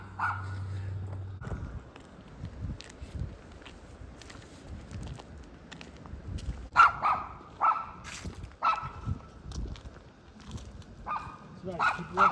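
Wild dogs bark in bursts along the abandoned Pennsylvania Turnpike, several sharp barks scattered at mid distance with irregular gaps, while footsteps and people's voices are heard nearby.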